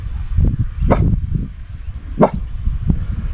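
A dog gives a few short, gruff barks and low huffing growls nearby, with gaps of rustling between them.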